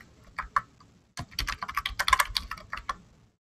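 A password being typed on a computer keyboard: a few isolated key taps, a short pause, then a quick close run of clicking keystrokes, with no talking.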